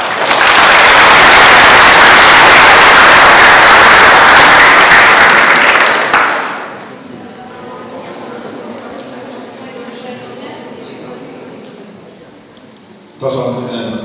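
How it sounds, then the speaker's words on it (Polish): Loud sustained audience applause at a parish knowledge contest about the Sianów sanctuary, clapping for about six seconds before fading into quieter room murmur and a brief burst of noise at the end. "Brawa."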